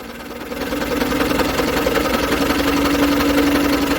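An Onan flat head twin generator engine cranks over, its starter turning the engine in a steady, loud, rapid chugging churn that runs without pause.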